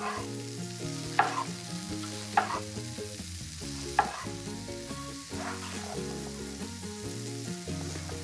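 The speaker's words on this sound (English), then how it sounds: "I'm going to let the garlic cook for another 2 minutes" Fennel and garlic fry in a pan for a Provençal shrimp sauté, giving a steady sizzle with a few sharp scraping knocks as the pan is stirred, all under soft background music.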